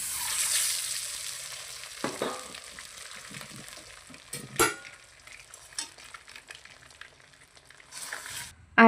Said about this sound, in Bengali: তো এদিকে আমি পাঁপড়টা ভেজে নিচ্ছি